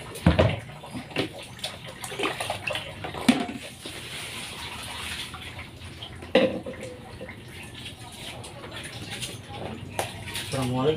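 Water runs steadily while seafood is washed, with splashes and occasional clinks of a pot or bowl and some talk in the background.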